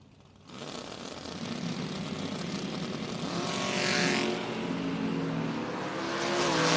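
Drag race cars, a Malibu and a topless Corvette, roar down the strip in a steady, loud, rising engine rumble with no talking.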